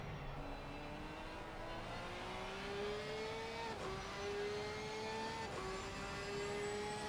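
Porsche race car in Assetto Corsa Competizione on the Nordschleife, its engine note climbing steadily through the gears with brief dips at shifts, heard from onboard at moderate loudness.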